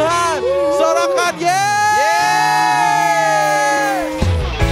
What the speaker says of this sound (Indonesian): Tepuk tangan sekali lagi yang meriah buat Tuhan. Sorakan